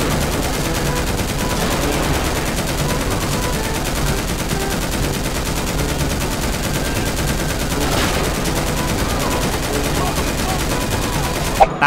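Gunfire in GTA V during a police shootout, a loud continuous barrage of overlapping shots that barely lets up, with occasional talking mixed in.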